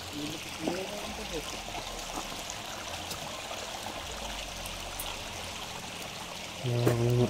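Water trickles and flows steadily like a small stream, a soft continuous rush with occasional voices and a low hum near the end.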